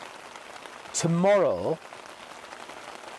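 Steady rain falls on a two-person FORCEATT dome tent during a long rain test, a soft continuous hiss of drops on the fabric, with a brief spoken voice partway through.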